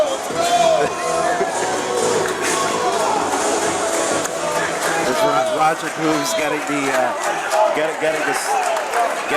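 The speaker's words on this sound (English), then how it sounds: "some student section support from the crowd going, getting their student section going" A high school student section in the crowd cheers and yells at a boys basketball game between Simsbury High School and its opponent, a dense indoor roar of many voices with squeaks and shuffling, while an announcer talks over it.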